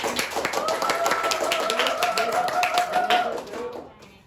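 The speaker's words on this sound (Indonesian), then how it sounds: "Boleh tepuk tangan untuk Melani" Students in a classroom clap for a classmate named Melani, a brisk run of near claps lasting several seconds before tapering off, with a voice speaking over the clapping.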